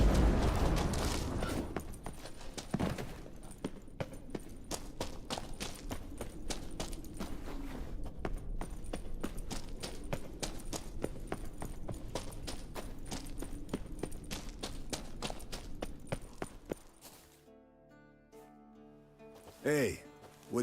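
Roach the horse gallops in The Witcher 3, with rapid, steady hoofbeats under ongoing talk and game voices. The hoofbeats fade out near the end.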